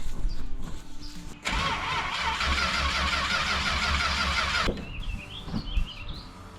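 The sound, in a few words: Plymouth Belvedere car engine starting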